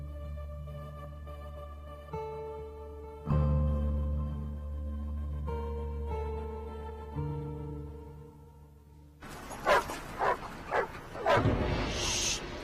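A dog barks in a TV drama scene. Sustained music plays first, then a handful of sharp, fairly close barks and yips burst out in the last few seconds.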